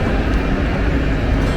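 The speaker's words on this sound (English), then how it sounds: "So yeah, this is our train here" A train bound for Slough at a station platform, a loud steady low rumble and roar close by with no clear voices.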